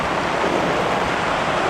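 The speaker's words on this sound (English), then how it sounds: "The storm has hit" A storm with heavy rain and wind, a steady loud broadband roar of downpour and gusts that stays constant through the short stretch, with no voices.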